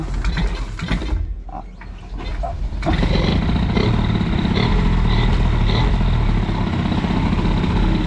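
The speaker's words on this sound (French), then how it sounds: "On va encore faire chauffer un petit peu le moteur parce que 41, c'est pas grand chose." A T6 50LC 50cc moped engine warming up, a loud close two-stroke buzz with a mechanical rattle that cuts out briefly, then returns and holds a steady, harsher idle for the rest of the clip.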